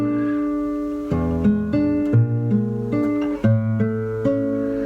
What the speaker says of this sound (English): that's the sound of tritone substitution